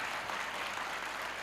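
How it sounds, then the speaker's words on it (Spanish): A church congregation applauds at a Sunday service, steady dense clapping filling the room throughout with no voices above it. "¿Qué le parece si le damos un aplauso al vencedor,"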